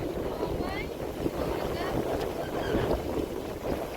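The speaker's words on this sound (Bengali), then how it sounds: "ট্রলার আইছে" A river trawler passes on the river, its engine a low steady rumble mixed with wind buffeting the microphone. Someone speaks briefly over it.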